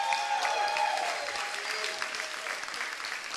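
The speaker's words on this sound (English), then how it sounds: "So another round of applause for Sheth." A crowd at a Red Bull LAN gaming event in Orlando applauds, a dense burst of clapping that starts strong and gradually thins over a few seconds, heard alone.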